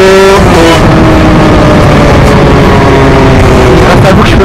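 An 86cc moped engine with an aluminium top end and a high-mounted exhaust revs loudly and continuously, a buzzing drone with rising and falling pitch filling the whole stretch up close.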